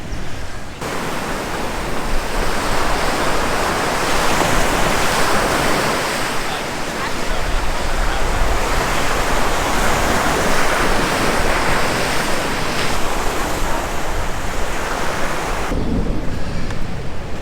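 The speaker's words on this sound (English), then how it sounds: "This is definitely a perfect afternoon beach." Waves break and wash onto a sandy afternoon beach on Oahu, a loud continuous roar of surf with slow swells in strength, heard alone without voices.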